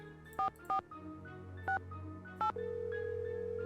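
Telephone keypad tones in the Nancy Drew game Message in a Haunted Mansion, four short spaced dialing beeps over a quiet hum, followed by a steady ringing tone.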